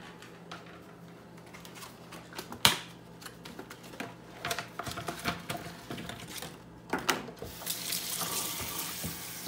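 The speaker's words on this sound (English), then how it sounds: "we are going to first wash our strawberries." Strawberries are washed by hand under a running kitchen tap, a soft steady stream of water with irregular splashes and clicking handling noises, close and quiet with no talking.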